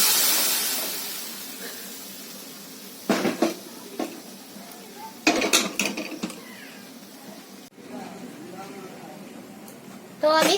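Prepared vegetables poured into hot sambar, bringing bursts of hissing and bubbling amid clatter of pots and utensils, with a fading hiss at the start and a person talking throughout.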